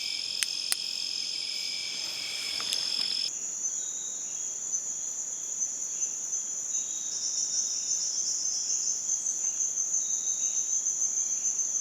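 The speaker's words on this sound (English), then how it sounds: "Each and every night in the rainforest is just magical." Crickets chirp in a rainforest at night, a dense, continuous high-pitched trilling chorus with a steady pulse, with a brief extra insect buzz and a couple of clicks early on.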